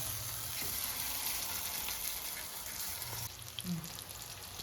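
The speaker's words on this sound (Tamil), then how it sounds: "இந்த சுரக்காய் எல்லாத்தையும் இதில் போட போகிறேன் ஒன்று ஒன்றா போட்டு அப்படி பரட்டி விட போகிறேன்" Pieces of bottle gourd frying in a pan, giving a steady, fairly quiet sizzle throughout with a brief soft clink near the end.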